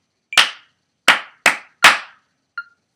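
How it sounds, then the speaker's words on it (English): Four crisp, close hand claps in a short rhythmic pattern during a music lesson, each sharp and separate against silence, followed by a faint brief tap. "now without the numbers, just clap"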